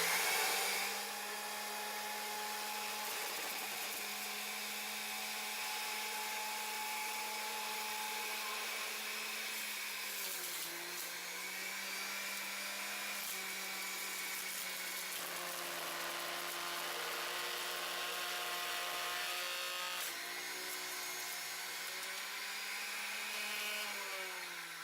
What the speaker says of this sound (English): I'm going to run some beets through here and see if it juices it